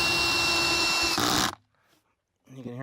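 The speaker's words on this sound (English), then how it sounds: "You can hear my drill going off." A DeWalt power drill set on 8 whirs loudly at a steady pitch driving a bolt for over a second, then cuts off abruptly; after a brief silence someone starts talking.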